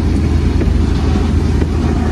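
A car engine held at full throttle with the pedal floored, a dense, continuous low roar that stays loud and unchanging across the short stretch.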